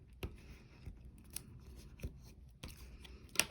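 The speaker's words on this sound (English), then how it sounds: "with my scissors, I'm just going to trim that off" Scissors snip and trim excess paper from a tea bag folding Christmas card, a few sharp separate cuts spaced over a few seconds, close and fairly quiet with no talk.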